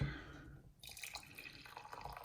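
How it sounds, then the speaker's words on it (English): Coffee trickles and splashes from a cafetiere into a cup, a continuous soft dribbling pour heard close up and fairly quiet, with no voices. "Oh, I'm pouring my coffee everywhere."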